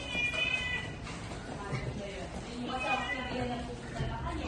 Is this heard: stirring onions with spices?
no